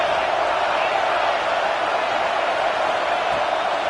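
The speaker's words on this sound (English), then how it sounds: "how nice is it to have the home crowd going absolutely bananas" A home crowd at a Georgia vs Alabama football game roars loudly and steadily, a broad wall of cheering and whooping with no letup.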